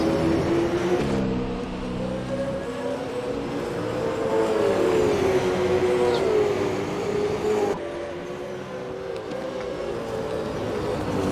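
Super 2 race cars at the 2020 Melbourne round roar past in a pack, with loud, sustained engine drones whose pitch sweeps up and down as they accelerate and shift, continuing without pause.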